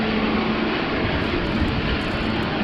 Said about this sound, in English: Beautiful sound of GE90s starting up.